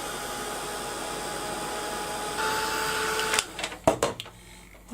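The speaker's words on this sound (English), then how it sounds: "Get my heat gun nice and hot." Heat gun blowing hot air for card making, a steady broadband whoosh that holds loud and even, then cuts off into a few brief handling knocks near the end.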